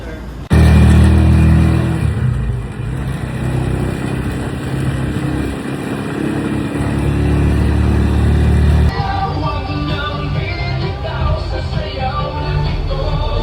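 A motorcycle tricycle engine drones loudly and steadily as the vehicle drives along in Boracay, its rough mid-pitched hum shifting character partway through as the ride continues.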